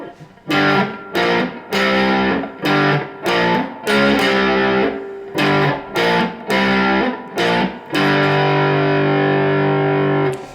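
A distorted electric guitar chugs out a choppy riff in short, punchy bursts, ending on a longer sustained chord.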